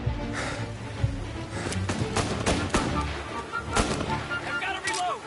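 Gunfire in the video game Mafia: repeated loud shots and booming reports burst at an irregular pace across a busy, dense battle mix, with spoken voices briefly showing up between the blasts.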